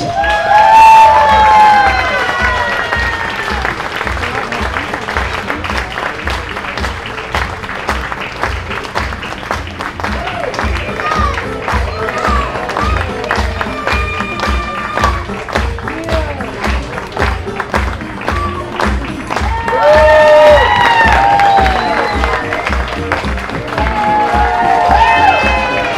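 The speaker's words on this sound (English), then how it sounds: "Let's welcome back to the stage our performers from the Kern Athletic Fencing Foundation for a final round of applause." Audience at a 2023 gala applauds and cheers performers from a fencing foundation after a fencing history skit, steady dense clapping with shouts and whoops rising louder near the start and again toward the end, with a strong rhythmic music beat underneath.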